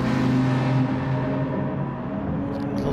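Racing car engines in the GT Sport video game at the St. Croix circuit, with a BMW among them, drone loudly and steadily in a dense, layered roar as several cars run close together.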